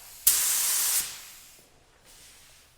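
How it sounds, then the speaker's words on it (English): A 3M Performance spray gun lets off a single steady burst of spray, a bright sharp hiss close by that lasts under a second and stops abruptly, with a fainter hiss returning briefly afterward. "I just kind of wanted to show you an idea of the range of spray pattern"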